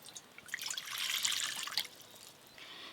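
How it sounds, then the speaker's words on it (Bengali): Water runs and splashes as it is poured into a pot for boiling eggs, a soft, steady trickling that swells in the middle and tapers off, close by and fairly quiet with no talking. "জল।"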